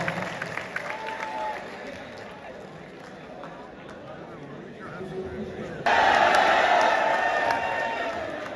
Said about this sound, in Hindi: जोरदार ताली जोरदार ताली क्या बात है